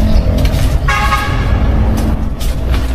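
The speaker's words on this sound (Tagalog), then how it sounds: "tabing highway lang to, may maririnig talaga tayong mga sasakyan" Constant loud roar of traffic beside a highway, with car and vehicle horns tooting over the rumble of passing motor vehicles, close by and with no voices.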